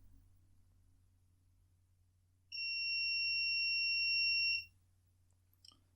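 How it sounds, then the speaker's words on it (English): A steady electronic buzzer tone, switched by a relay on an ESP8266 board, sounds for about two seconds, loud and continuous, then cuts off, followed by a faint click. "Buzzer."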